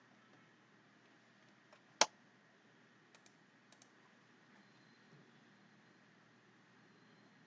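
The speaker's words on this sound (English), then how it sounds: "So here I am typing." Sparse, faint clicks of typing on a computer keyboard, one sharper keystroke standing out among a few light taps over quiet background hiss.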